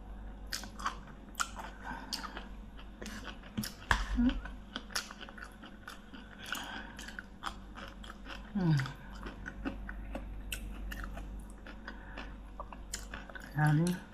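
Raw asparagus being eaten close to the mic: crisp crunching bites and wet chewing come in irregular bursts, with a few louder snaps and some muffled talk between mouthfuls.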